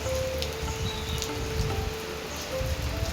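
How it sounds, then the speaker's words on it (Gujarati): Steady rain falls at the Meldi Mata temple in Karal, a continuous soft hiss of drops on surfaces that stays even and close throughout, with no voices. "અને જો વરસાદ પણ ચાલુ છે."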